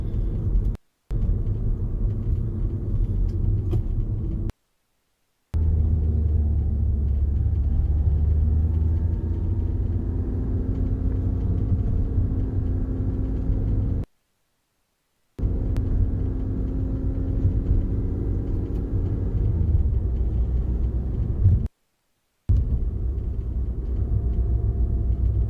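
A car engine held at high RPM during a regen gives a steady, loud droning rumble with a constant tone that runs for long stretches, broken by several brief silent gaps.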